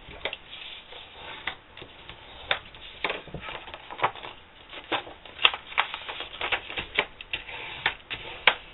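Paper being scored and folded with a bone folder while making a gift box: dense crisp scraping, creasing and crinkling sounds in irregular quick bursts, close and moderately loud, with no talking.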